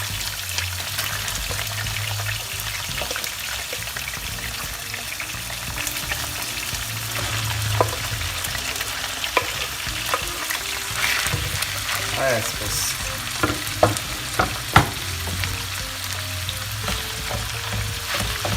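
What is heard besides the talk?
carrots and onions frying together in pan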